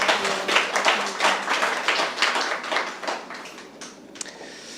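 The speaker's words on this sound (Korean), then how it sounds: "박수로 맞이해 주십시오" An audience at a book talk applauds with dense, steady clapping that fades out over a few seconds.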